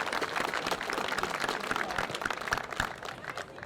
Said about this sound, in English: A round of applause for Adrian Finch, Head of Sport at Hutchins.